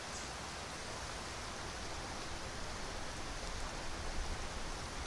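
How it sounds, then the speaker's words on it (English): Steady, even rain hiss from the video game Skyrim, running as a continuous broadband wash with no breaks, fairly quiet, and no talking. "this rain almost makes me want to go into the settings and just turn it off."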